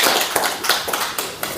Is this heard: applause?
yes